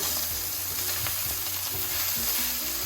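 A smash burger patty fries in butter, giving a close, steady, loud sizzle with crackling and spitting that runs unbroken from start to finish.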